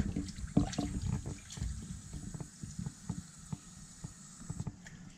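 Water runs from a tap into a sink while home-made liver pâté, cooked to 75 degrees, cools in cold water, with scattered clinks and knocks over a soft hiss.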